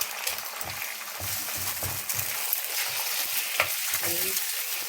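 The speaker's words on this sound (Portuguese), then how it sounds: "Ainda fritar o alho e depois vai pôr o arroz" Garlic, rice and egg fry for Filipino-style fried rice, giving a steady, close, crackling sizzle throughout, with occasional stirring scrapes and light spatter.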